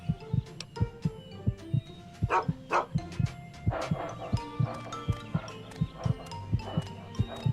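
A dog in Fallout 3 barks in quick repeated yips over steady rhythmic clopping footsteps, with faint game ambience and occasional quiet voices in the background.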